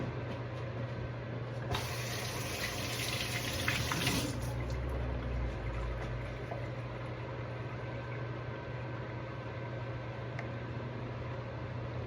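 Food rinsed under a running kitchen tap, a steady hiss of water that swells louder for a couple of seconds before settling back to an even flow.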